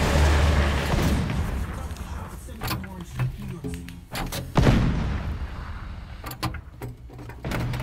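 Gunfire in the War Thunder video game, heard as a series of sharp booming shots spread across the stretch amid engine rumble and battle noise, with a voice talking over it.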